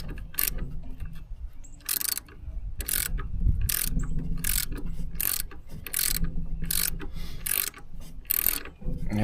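A hand ratchet clicks in quick repeated bursts while tightening engine mount bolts on a 2015 Ford Transit, with short pauses between strokes and the work close by. No one speaks.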